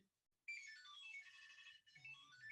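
Tile key tracker rings out from lost keys after a find request in its phone app, a bright repeating electronic melody starting abruptly and continuing steadily, fairly faint, with no talking over it.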